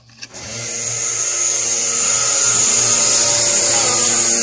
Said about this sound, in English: I'll just stop here and plug the vacuum pump in